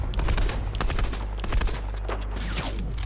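Rapid bursts of video game gunfire fired at random, loud and close, with dense repeated shots crackling over a low rumbling game soundtrack for the whole stretch.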